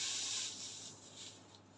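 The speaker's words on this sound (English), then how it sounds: "steam pressing it right now" A steam iron presses fabric with crinoline laid over a corset, giving a soft, steady hiss of escaping steam that starts strongest and slowly fades, with no voices.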